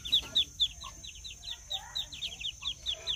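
Muscovy ducklings peep rapidly and steadily, a close chorus of high, thin calls repeating about four times a second. A faint low background hum runs underneath.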